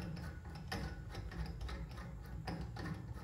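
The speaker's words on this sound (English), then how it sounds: "So I just put a little Torx bit into the hole inside the gas port and grab the knurled nut on the end, and unscrew it." A knurled nut on a bottle filler's gas port is unscrewed with a small Torx bit, giving close, steady mechanical clicking and ratcheting with faint rhythmic scrapes throughout.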